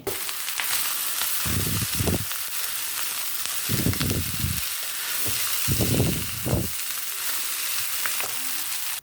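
Rice and wilted vegetables frying in a pan for homemade Indonesian nasi goreng, a steady close sizzle with several louder bursts of stirring and tossing throughout.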